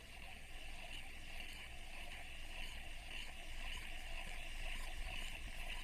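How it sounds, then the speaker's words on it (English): A Daiwa Saltist Back Bay 4000 spinning reel cranked steadily up close, giving a smooth, continuous whirring hum with a faint high tone and no pauses. "cranking this reel."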